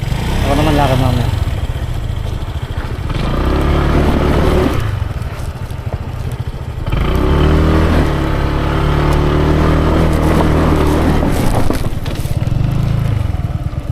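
A motorcycle engine runs steadily close by, its low rumble rising and easing in a few surges, with voices talking over it.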